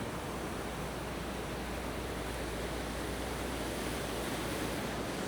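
Ocean waves wash onto a sandy beach, a constant broadband roar of surf that fills the scene steadily with no voices.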